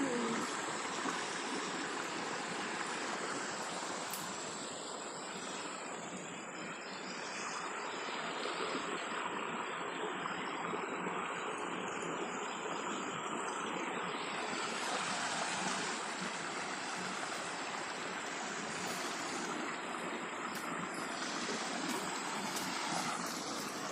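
Clear river flowing steadily outdoors, a continuous broadband rush of moving water at moderate distance, with no voices over it.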